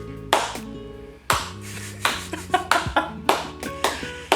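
Sharp hand claps ring out alone, a few isolated ones at first, then a quicker, irregular run of claps, close and fairly loud.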